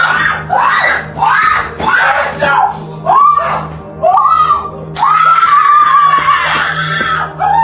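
Two women scream and wail in repeated loud, anguished bursts right after a shooting during an outdoor Independence Day gathering, the cries rising and falling in quick succession close to the microphone.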